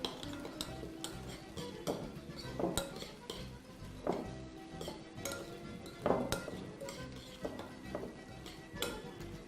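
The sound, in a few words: quickly mixing salsa in a bowl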